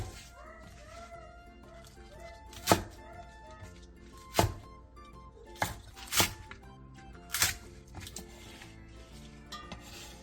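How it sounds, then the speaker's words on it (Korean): A kitchen knife cuts Cheongyang chili peppers, red chili and green onion on a cutting board, with several distinct sharp chops spaced a second or two apart over soft background music. "청양고추 2개와 홍고추 1개를 어슷썰게 해주세요."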